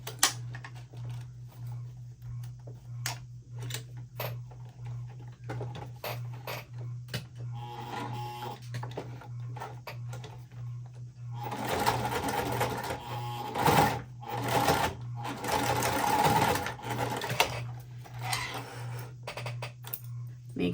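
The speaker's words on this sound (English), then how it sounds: "I'm going to sew 2 lines again" A sewing machine stitching lines along a tote bag, rattling in short bursts at first and then in longer continuous runs of rapid mechanical clatter over a steady low hum.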